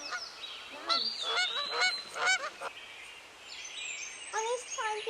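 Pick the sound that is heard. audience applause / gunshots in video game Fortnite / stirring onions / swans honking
swans honking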